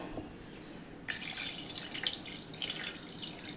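Water pours into a pot of mutton curry being cooked for gravy, a steady splashing rush that starts abruptly partway through and continues close by without talk.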